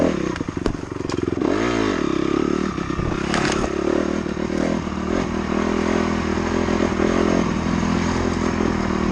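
A dirt bike on a rutted trail runs loud and steady throughout, its engine droning close by while the suspension and tires clatter and thump over the ruts, with a brief rev partway through.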